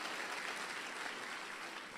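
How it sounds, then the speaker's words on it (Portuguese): A church congregation claps together in a steady, dense wash of applause. It sounds moderately distant and carries on evenly throughout, with no speech over it. "Você pode aplaudir o Senhor por isso"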